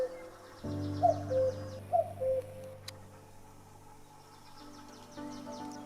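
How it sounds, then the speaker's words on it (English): Two-note cuckoo calls ring out in a forest near a country house, a pair of clear calls about a second apart, moderately distant, over a quiet, humming background. "It seems there are a lot of cuckoo birds."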